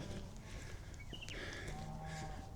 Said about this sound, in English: Listen to the cows.